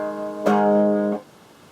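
A single strummed barre chord on guitar rings out for about three quarters of a second and then is cut off. It is heard alone, close and clear, with no talking.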